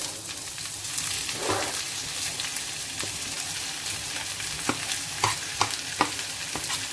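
Chopped onion frying with garlic in hot oil, a loud, dense sizzle running throughout with scattered close scrapes and taps of a spoon stirring the pan.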